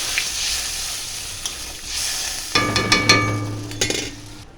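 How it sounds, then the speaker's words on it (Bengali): Water poured into a pan of frying potatoes sets off a loud sizzle, with a burst of hissing and a few clinks of the pan partway through. "কষিয়ে নেওয়ার পরে এবার জল দিয়ে দিচ্ছি পরিমাণ মতন"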